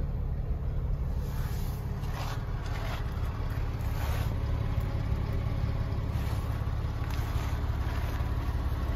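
A 2002 Porsche 911 Carrera 4S engine idling while warming up on a cold day, a steady low rumble that holds even and unbroken throughout, with faint wind noise over it and no talk.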